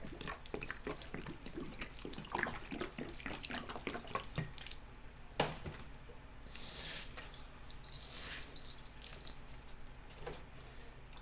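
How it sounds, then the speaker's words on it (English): Warm water splashes and trickles as it is poured into a plant pot, with uneven gushes and drips close by, fairly quiet with no talking. "Okay, so what I want to do is I want to add water."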